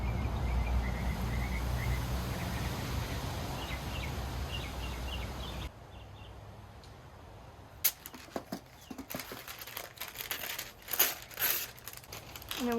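Parchment paper handled during a pressed flower craft, with a steady hiss at first, then a quieter stretch before sharp, irregular crinkles and rustles come in bursts up close.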